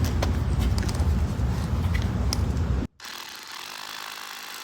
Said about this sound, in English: I'm drilling this hole for an eye bolt that I can secure the tent down